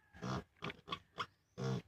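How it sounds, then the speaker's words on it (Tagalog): A sick mother pig gives five short, close grunts in quick succession, fairly quiet and with no talking. "ito yung inahing baboy na nagkasakit"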